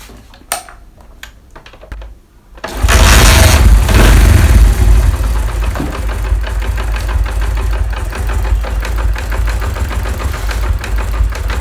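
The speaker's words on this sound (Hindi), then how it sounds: "सबसे पहले तो बाइक स्टार्ट करता हूँ" A Honda CD 70 motorcycle engine catches after a few faint clicks, roaring up loudly then settling into a steady, close, rumbling idle.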